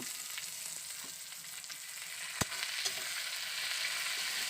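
Chickpea ghugni stir-fried in a pan with tomato, chili powder, turmeric and salt, giving a steady close sizzle with a few sharp spatula scrapes and clicks, no talking.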